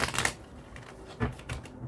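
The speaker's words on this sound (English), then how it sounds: "I really like shuffling these cards." Cards riffled and shuffled by hand, a large deck handled in quick crisp bursts of flicking and rustling, close by and alone, with brief pauses between shuffles.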